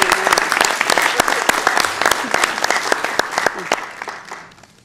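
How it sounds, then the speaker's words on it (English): Audience applause at a Sacramento city council meeting, loud close claps with distinct individual hits, building then tapering off at the end, with faint voices beneath. "Please give her a round of applause."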